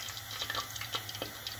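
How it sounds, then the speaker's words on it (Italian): Filo-wrapped shrimp sticks frying in boiling oil, giving a steady dense sizzle and crackle with small irregular pops, close and continuous. "Ecco qua il nostro olio bolle. A questo punto mettiamo giù i nostri stick."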